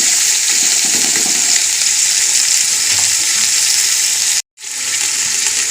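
Carrots, peas and potatoes fry in a pan over browned onions for vegetable pulao, giving a steady loud close sizzle throughout with a faint stir, cut by a brief dropout near the end.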